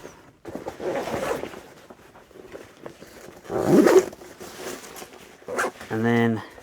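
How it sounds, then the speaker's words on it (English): A zipper on an Eberlestock Bandit backpack is pulled closed, a short raspy zip near the end following quieter handling and rustling, close to the microphone. "Get this zip backed up."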